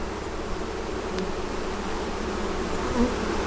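Honey bees swarm around an open, honey-filled hive during an inspection, a dense, continuous buzz close to the listener with a single bee droning nearer for a moment.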